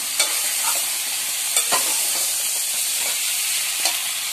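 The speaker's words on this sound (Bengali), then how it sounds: "এবার মশলার সঙ্গে একটু কাঁটাগুলো কষিয়ে নেব, কষিয়ে নিচ্ছি কাঁটাগুলো" Fried vetki fish bones sautéed with spices in a pan, a steady close sizzle with scattered scraping stirs and spoon knocks, no talk.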